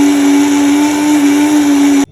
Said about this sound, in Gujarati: હવે આ મકાઈના દાણાને આપણે મિક્સર જારમાં નાખીને પીસી લઈશું